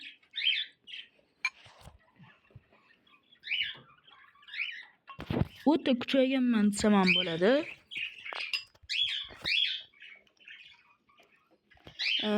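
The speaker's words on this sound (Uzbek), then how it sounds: "Agar qushlarning ovozi kelayotgan bo'lsanglar, ahamiyat bermanglar. Chunki papugaylarim sal ko'proq sayrab yuborishadi oxirgi paytda." Pet parrots let out a loud, drawn-out squawk partway through, among shorter bird calls, while a person talks over and around them indoors.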